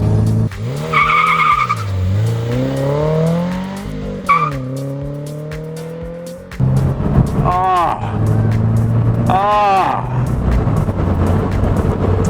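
A Subaru BRZ sports car with an aftermarket exhaust revs hard through rising acceleration pulls, with a throaty exhaust rasp and a brief tire chirp, loud and close, with people talking over it.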